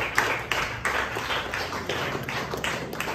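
A classroom audience claps for a student's presentation, a dense, steady patter of hands that runs throughout without pause, with no talk over it.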